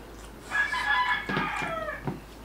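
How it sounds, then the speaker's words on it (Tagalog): A rooster crows at a rural home, a long harmonic cock-a-doodle-doo rising and falling over about two seconds, fairly close and loud, followed by a short clucking note, with no talk over it. "yung mga manok eh, present na po. Masanay na po kayo kasi yun yung mga background namin."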